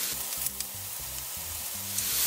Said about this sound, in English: As you can hear, it's starting to sizzle more.